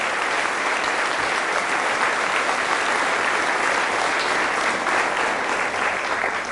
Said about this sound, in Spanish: Un aplauso al Señor por la vida